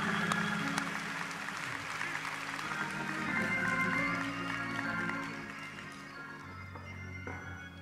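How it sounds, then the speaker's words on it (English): Audience applause for the Meharry Choir at the Meharry Medical College 148th commencement, a sustained wash of clapping in a large hall that holds steady, then gradually fades out over several seconds. "Give the Meharry Choir another round of applause"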